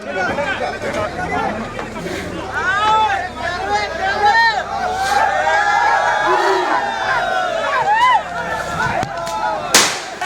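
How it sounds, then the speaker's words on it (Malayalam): A lively crowd of villagers cheers and shouts together as a rescued baby elephant reaches the bank, voices overlapping in a loud, continuous roar with whistles and calls rising above the din. "ആരവത്തോടെ സ്വീകരിച്ച നാട്ടുകാർ"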